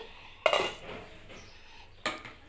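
A spoon clinks and scrapes against a pan twice while fenugreek leaf curry is stirred near the end of cooking, two short metallic bursts over a quiet kitchen background.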